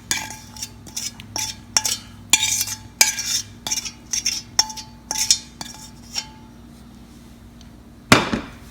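A spoon scrapes and knocks rhythmically against a bowl while sprouted fenugreek seed pickle is mixed, about a dozen close clinking strokes, then a pause and one final louder clatter.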